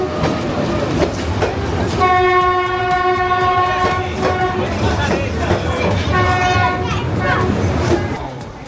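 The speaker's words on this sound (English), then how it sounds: "wait for the train to pass." A passing train in Hanoi, Vietnam blares a loud horn for a couple of seconds while its wheels clatter steadily, with children's voices mixed into the noise.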